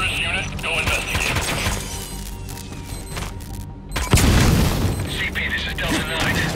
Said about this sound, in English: Explosion spotted! Damage unknown!